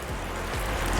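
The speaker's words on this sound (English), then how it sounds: "listen to the raindrops." Raindrops patter softly in a steady, close wash of rain on a surface, with a few distinct low drips over about a second.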